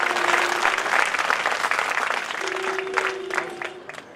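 An audience at a Prajapati community talent award ceremony in Bidasar claps heartily, dense continuous applause with a faint tonal hum underneath, easing slightly toward the end.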